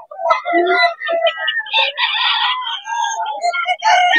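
Young stag roosters crow loudly and close by, several calls overlapping in quick succession, mixed with clucking and cackling.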